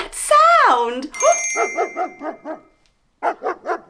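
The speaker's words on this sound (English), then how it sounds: "It sounds like a dog." A dog barks in a quick run of about five close, loud barks, falls silent for a moment, then barks three more times, following a rising whistle-like tone.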